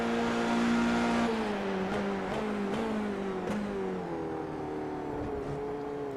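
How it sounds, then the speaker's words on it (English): A Formula 3 race car at Monza in a sim racing game lifts off the throttle, its loud close engine whine dropping in pitch with a few sharp ticks, steady and without talk. "You can hear him just letting off again."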